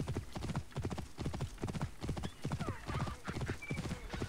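Horse hooves clip-clop in a steady rapid gallop rhythm throughout, loud and close, in the Assassin's Creed Origins video game, with a brief whinny and faint game effects in the background.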